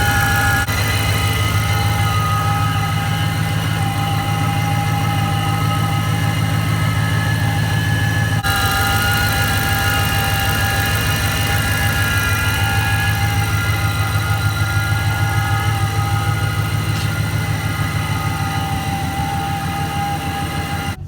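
A Ram 1500 pickup's engine fitted with a ProCharger supercharger idles steadily, a loud close low rumble with constant whine and vibration throughout, no talk.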